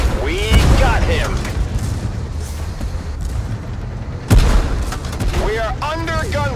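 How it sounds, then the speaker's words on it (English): Tank gunfire and explosions in the Tank Force video game, with heavy booming blasts and rumbling under a continuous loud battle din and a sharp burst near the end, while voices speak over the fighting. "We are under gunfire."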